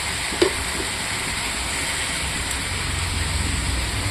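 Chicken and potatoes sizzle steadily in a pan while being stirred for a gravy, a constant close hiss with one brief clack of the utensil early on.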